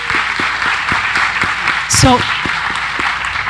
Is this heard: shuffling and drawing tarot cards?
no